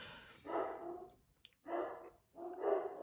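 Dogs bark loudly and close by in three separate bursts, a short pause between each, with no talk over them.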